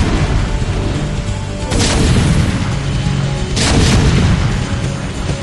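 Siege tanks in a StarCraft match fire heavy booming shots with explosions, two big blasts about two seconds apart over a dense, continuous rumble of battle noise, loud and close.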